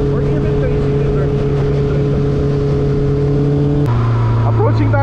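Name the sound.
Honda CB650R four-cylinder motorcycle engine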